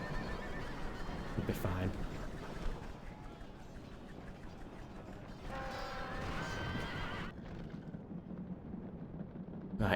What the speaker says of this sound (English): So chariots are fighting the cavalry.